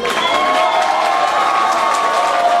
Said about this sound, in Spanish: el aplauso al ganador